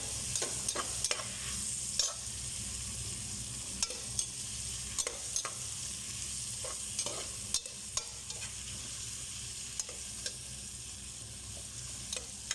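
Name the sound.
stirring dinengdeng vegetables cooking in a pan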